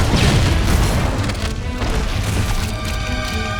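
A frag grenade explodes in Halo: Combat Evolved, a loud, close, booming blast whose rumbling debris tail fills the whole moment with no voices over it.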